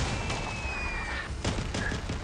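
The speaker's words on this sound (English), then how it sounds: "was that a salvo from a teammate?" A weapon salvo fires in the vehicle-combat game Crossout Mobile as a dense, continuous barrage of booming shots and thuds. A faint whine runs through it and there are a few sharper bursts near the end. No voices.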